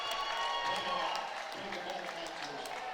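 Volleyball fans cheer and applaud during a timeout in a close college game between DSU and Cal Baptist, a dense, steady wash of clapping and crowd noise filling the gym throughout.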